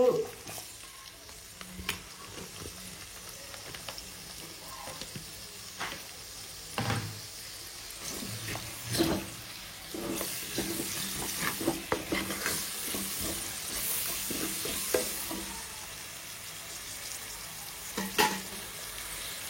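Chopped onions sizzle and fry in hot oil while a spoon stirs them in a pan, a steady crackle with repeated scraping strokes, prepared for an Andhra-style korameenu (murrel fish) curry.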